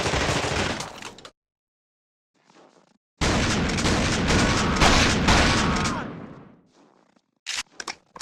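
Shotgun fire in The Thing Remastered video game, loud booming blasts with long roaring bursts of gunfire broken by sudden silences and a couple of short sharp cracks near the end.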